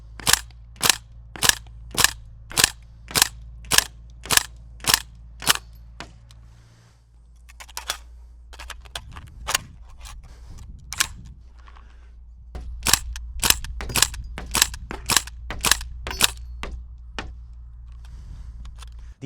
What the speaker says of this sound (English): This one is definitely not gonna shoot like a super high performance AEG.